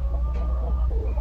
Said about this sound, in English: The rooster I just got this year, so he's new to the land.